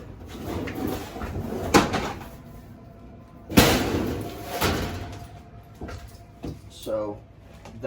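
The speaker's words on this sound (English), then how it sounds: "You want to open those doors?" Doors of a shuttle bus being converted into a tiny home slide and bang open, with a couple of sharp knocks and thuds amid people talking nearby.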